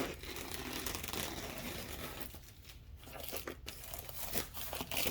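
Plastic packaging around an assortment of party poppers and snappers is torn and crinkled open, a continuous close crackling and ripping with a few brief pauses, no voices.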